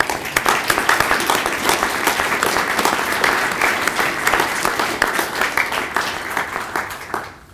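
A symposium audience applauds a Marston Medal recipient, with sustained, dense clapping from many hands that holds steady and then tapers off at the end.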